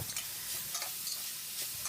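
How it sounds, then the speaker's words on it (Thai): Minced pork and cut long beans sizzle while being stir-fried in southern Thai curry paste, a steady hiss of frying with faint scraping stirs, close and alone without talk. "ตามด้วยถั่วฝักยาวที่หั่นเตรียมไว้ได้เลยครับ ผัดคลุกเคล้าสักหน่อยนะครับ"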